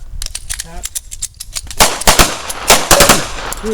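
Gunfire at a firearms training workshop, a rapid burst of loud, close shots with sharp cracks and echoes, heard alongside people talking.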